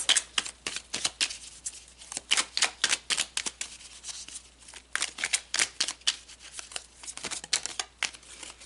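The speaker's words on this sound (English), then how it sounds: "So let's pull some more cards." Tarot cards shuffled by hand in a quiet room, a rapid series of crisp riffling bursts and soft slaps repeating with short gaps, close and clear with no talking.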